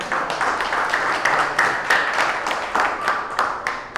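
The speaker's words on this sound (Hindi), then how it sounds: "तो मैं चाहता हूं कि उनका तालियों से स्वागत करें।" A crowd at a retirement farewell for a colleague applauds with steady, continuous clapping, moderately loud and sustained for several seconds.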